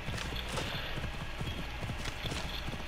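Hooves clip-clop in a steady gallop as a horse is ridden in Assassin's Creed Odyssey, a continuous rhythmic pounding heard fairly faintly under the game's ambient sound.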